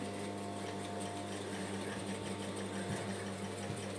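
A sewing machine stitches the hem of a lined chiffon dress, giving a steady, continuous motor hum with a fast mechanical whir that runs evenly throughout, fairly close and unaccompanied by talk.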